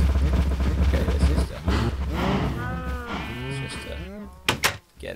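Sheep in Minecraft bleat several times in a row, wavering calls close up, after a stretch of low rumbling game noise, followed by a couple of sharp clicks.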